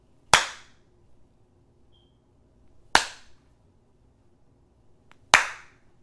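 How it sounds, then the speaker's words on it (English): Three sharp, loud hand claps sound alone, spaced about two and a half seconds apart. Each one snaps crisply and then rings off in a short room echo. "You got to do the 3 claps."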